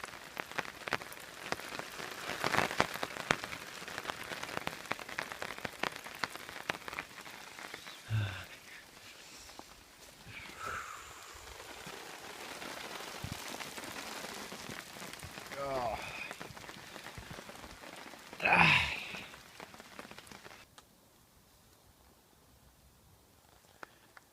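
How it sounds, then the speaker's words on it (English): Steady rain patters on a large, taut tarp over a hammock at a wild campsite, a soft continuous drumming with a few louder drips, while a voice speaks quietly at times. "it is fairly raining on my tarp because it's so big"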